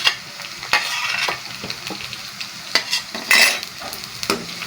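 Pumpkin and chana dal with green chilies, ginger and garlic get stirred in a sizzling pan, with a run of scraping spoon strokes and sharp clinks over a continuous frying hiss, up close.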